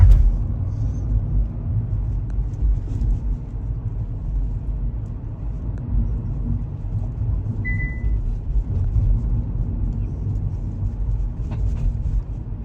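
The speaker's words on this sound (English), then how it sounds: "Typical New York City bus stop." Traffic at a New York City bus stop on Staten Island, a continuous low rumble of passing cars and heavy vehicles with a brief faint high beep midway, no talking.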